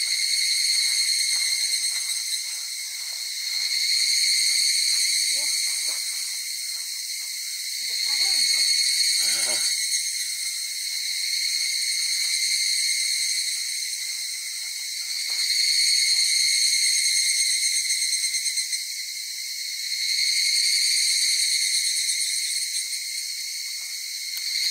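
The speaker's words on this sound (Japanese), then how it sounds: "セミの合唱、すごい音。" A summer cicada chorus on a wooded hiking hill, a dense high-pitched buzzing drone that swells and fades in slow, regular waves, loud and continuous with no talking.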